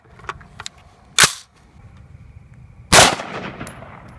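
Two sharp, loud gunshots from a real firearm ring out about two seconds apart, close by, with a few fainter clicks before them and no talking.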